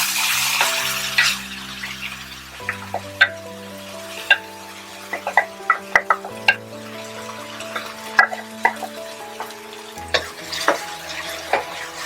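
Spice paste for butter paneer stirred in a hot pan, sharp repeated clinks and scrapes of a utensil against metal over a soft sizzle and background hum, close, no talking.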